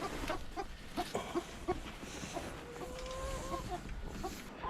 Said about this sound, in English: So this is my best chicken, Kevin.